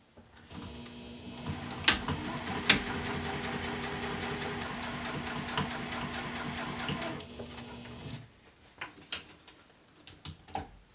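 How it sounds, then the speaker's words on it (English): A sewing machine stitching along zipper tape close to the teeth for a bag, running in a steady mechanical hum for about seven seconds before stopping, followed by scattered clicks and handling noises. "you're sewing directly on that line, so it'll be a little bit over that"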